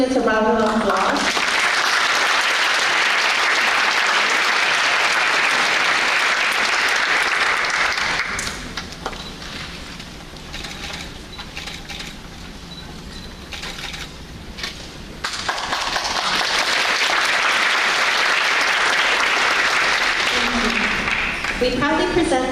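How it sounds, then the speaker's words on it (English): Loud audience applause for scholarship recipients at an award ceremony, sustained and full, dipping to a quieter stretch with a voice speaking before swelling again to strong clapping. "Please give all these students a round of applause."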